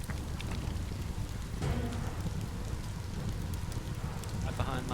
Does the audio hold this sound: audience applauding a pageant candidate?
no